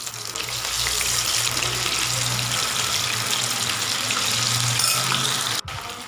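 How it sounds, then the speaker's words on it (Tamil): Soya chunks deep-fry in hot oil with a steady, bright sizzling hiss that carries on evenly for several seconds, close and fairly loud, with a brief break near the end. "நல்லா லைட் கோல்டன் ப்ரௌன் வர வரைக்கும் நம்ம ஃப்ரை பண்ணிக்கலாம்."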